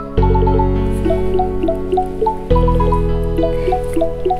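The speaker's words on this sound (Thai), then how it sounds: "เป็นเสียงระนาดเลยเนาะ" A Thai ranat xylophone plays a bright, rapid run of struck wooden notes over a steady bass and beat in a pop music track, close and loud throughout.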